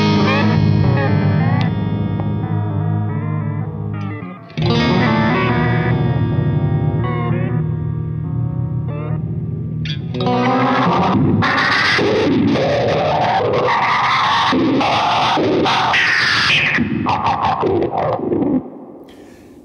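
Electric guitar runs through a Jam Pedals Delay Llama Xtreme delay pedal on its third preset, sounding loud and heavily effected with washes of repeating echoes, warped, swelling textures and a dense, rising smear in the second half, with no talk.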